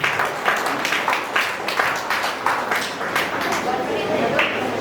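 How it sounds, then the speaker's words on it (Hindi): Guests at an engagement ceremony in Kabir Hall, Suva, clap together in a steady, moderately loud round of applause lasting several seconds, with faint voices mixed in. "श्वेता और कृष्णियल को जोरदार तालियों से धन्यवाद दें।"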